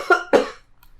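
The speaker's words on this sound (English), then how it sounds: "I'm coughing." Two close, loud coughs from a man in quick succession, each a harsh burst, followed by near silence.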